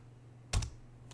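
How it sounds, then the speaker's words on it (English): Keystrokes on a computer keyboard, including the tab key, typing a Linux command: a quick pair of close, loud clicks mid-clip and a fainter tap near the end, over a steady low hum. "get in the habit of typing it partially and using a tab key"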